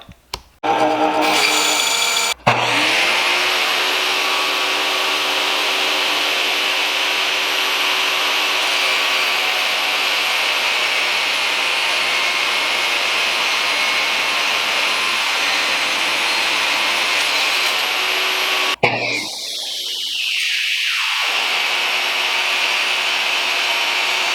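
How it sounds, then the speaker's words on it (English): A bandsaw rips the edges off thin knife handle scales, a loud continuous whine and rasp of the blade through the material that runs steadily for most of the stretch before cutting off and winding down. "let's take these over to the bandsaw. We'll rip those edges off"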